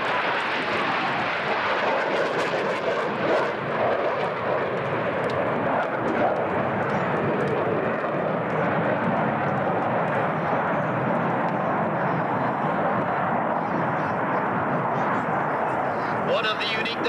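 Blue Angels Navy demonstration jets roar past at the 1997 Oceana air show, a loud sustained rumble that swells and fades, with a voice talking over it.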